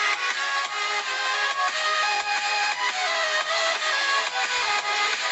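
Music playing through the stereo speakers of a Xiaomi Mi 10T Pro phone, bright and mid-heavy with little bass, continuous and fairly loud, with no talking over it.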